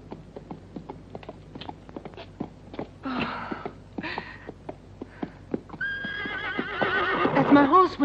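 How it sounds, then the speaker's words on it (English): A horse whinnies loudly and close, a long shaky neigh rising at the end, after a stretch of hoof clip-clop and other movement noises. "That's my horse whinnying."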